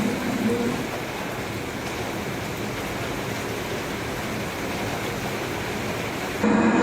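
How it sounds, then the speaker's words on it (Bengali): Heavy rain falls outside a hotel balcony at a seaside resort, a dense, steady wash of noise close by that carries on evenly, with a brief louder shift at the very end. "বাইরে দেখতে পাচ্ছি কী পরিমাণে বৃষ্টি হচ্ছে"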